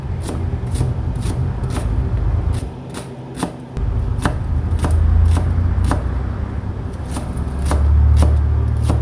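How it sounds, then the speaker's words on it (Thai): Knife chopping coriander, spring onion and culantro on a board for a Thai pork nam tok salad, a steady run of sharp close taps with a brief pause midway. "แล้วเราก็มาหั่นผักชีต้นหอมผักชีฝรั่งครับสามอย่าง"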